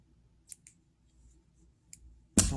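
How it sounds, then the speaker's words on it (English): Scissors snip a few times, quiet and close, then a louder, denser burst of cutting or rustling closes the short stretch. "Got my scissors."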